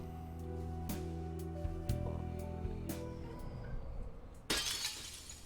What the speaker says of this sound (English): Shattering effect.